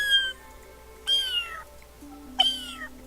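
Three clear, fairly loud meows come from a cat, one at the start, one after a second and one near the end, each a rising-falling high cry with brief gaps between.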